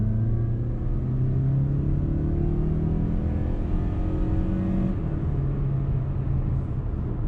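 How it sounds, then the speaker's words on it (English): A 2019 Mazda CX-5 Grand Touring's engine pulls hard under acceleration, a loud continuous drone rising steadily in pitch, then easing as the revs drop, heard from inside the cabin with no talking. "we'll get a nice acceleration."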